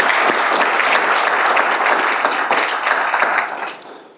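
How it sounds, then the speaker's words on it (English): A community event audience in Myrtle Beach applauds local charities, a full, even roar of clapping hands that runs steadily for several seconds before tapering off at the end. "So let's give them a round of applause for all the hard work they do throughout the year."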